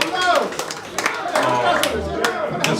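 Applause and scattered clapping from a gathered audience at a 21st birthday celebration, mixed with cheering voices, all close and fairly loud.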